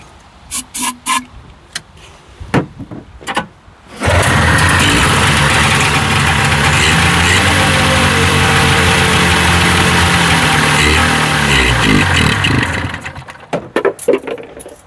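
A 1981 John Deere snowmobile engine cranks on starting fluid with a loud, steady rasping drone for about eight seconds, framed by clanks and handling noises.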